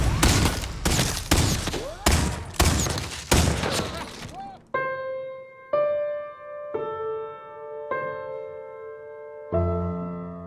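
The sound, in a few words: gunfire in a film scene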